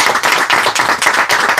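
An audience at a comic and CD presentation in Zaragoza claps in a dense, loud burst of applause, with rhythmic surges throughout and no voices over it.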